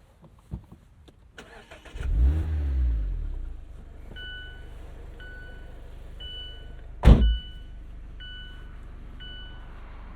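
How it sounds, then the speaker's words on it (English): A 2024 Mazda MX-5 Miata RF four-cylinder engine cranks and catches, settles into a steady idle, then gives one sharp rev blip, while a chime beeps at a regular pace. "it comes to life with much happy little free revving 4-cylinder noises"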